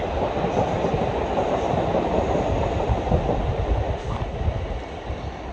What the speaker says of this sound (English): This is the 1846 London Northwestern Railway Service to Crewe.